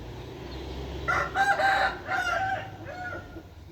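A rooster crows once, close and loud, in a drawn-out call that rises and then trails off over a couple of seconds against a low, steady background hum.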